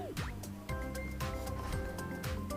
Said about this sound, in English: you have to fill the container with water till it overfills